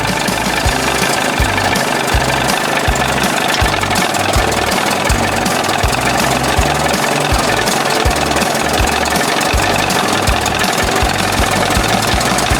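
A rough, loud old outboard motor runs steadily up close, its uneven knocking chug continuing without pause and no voices.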